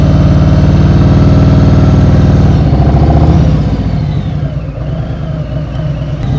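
A motorcycle engine idles loudly and steadily up close in first gear during slow-speed practice, then its note drops and softens partway through, continuing as a lower rumble.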